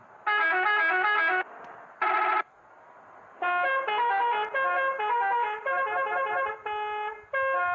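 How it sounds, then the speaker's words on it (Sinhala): Electronic bus horn tones in the game Bus Simulator Indonesia sound in short bursts, then a longer run of choppy, melodic honks, loud and clear with no talking. "මේකේ හෝන් ටික හලිමු"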